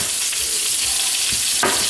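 A pork chop sizzles and crackles steadily in a hot pan with butter, fresh rosemary and oregano over medium-high heat, a continuous close frying hiss with a sharper pop near the end.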